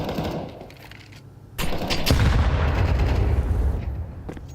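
Grenade blast hitting a player in a Counter-Strike 2 tournament match, a sudden loud boom followed by a rumbling tail and sharp crack, with quieter game ambience before it.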